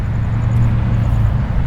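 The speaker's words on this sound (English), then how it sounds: "We're right next to Dobson Road, so we have a lot of car action." Car traffic streams along Dobson Road next to a city park, a continuous low rumble of passing vehicles at moderate distance with no distinct events.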